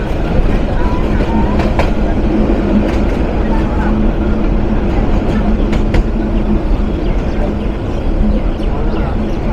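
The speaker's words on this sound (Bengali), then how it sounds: "66 নং বুড়িমারি কমিউটার প্রবেশ করতে চলেছে যাত্রা বিরতির প্রথম স্টেশন পাটগ্রামে" The 66 Burimari commuter train rolls into Patgram station in Bangladesh, loud steady rumble with clickety-clack of wheels over rail joints and occasional metallic squeals, close and continuous.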